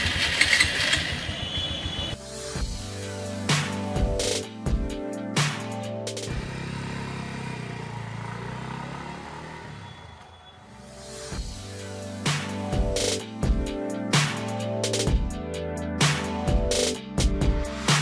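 A motorcycle engine on a DIY voice-controlled smart bike system turns over and runs close by with a rough, pulsing rumble, dips briefly to a quieter idle midway, then picks back up with uneven revs.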